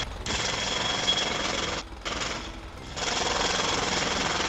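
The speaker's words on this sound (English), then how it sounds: "I'm gonna start the drilling process." A jackhammer breaks up a street in the GTA role-play game, with loud continuous rapid pounding that stops briefly twice and then resumes, and no talking over it.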